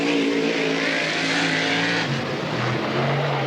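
A sprint car on the Northern Sprint Tour speeds around the Cottage Grove Speedway oval, its high, raspy engine screaming loud and steady, then dipping in pitch as it backs off into a turn.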